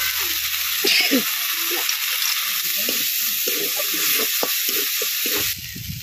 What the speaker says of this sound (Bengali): মশলাগুলো 2 মিনিট কষিয়ে নিয়েছি